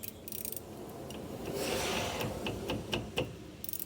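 Wrench loosening the brake hose bolt on a Jeep Compass front brake, giving faint scraping and ratcheting clicks, with a few sharper metallic ticks near the end over low background noise.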